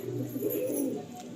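A pure pair of red-headed Andhra pigeons, male and female, gives a brief stretch of low, throaty cooing close at hand. The rolling coo is quiet and continuous, with no speech.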